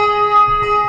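A handbell gyro rings loud and close with a steady shimmering tone that wavers gently as it is swung, the sustained ring carrying through the whole moment.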